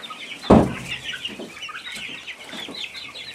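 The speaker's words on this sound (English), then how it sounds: "We brought this Rhode Island Red hen up from the barn" A lethargic Rhode Island Red hen that won't eat or drink, brought up from a barn, gives a few soft, faint clucks after a sharp knock near the start.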